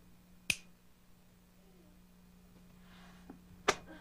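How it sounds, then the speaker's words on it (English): Two sharp, isolated finger snaps about three seconds apart, loud and close against a faint steady hum, from a comedy radio play about a hypnotist. "When I snap my fingers"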